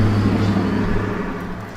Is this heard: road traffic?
yes